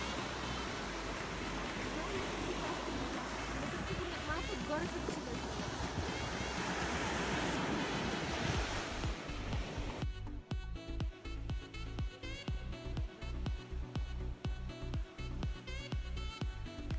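Ocean waves wash onto a beach in a steady, loud roar with wind buffeting the microphone, later giving way to a choppier, more broken surge of water.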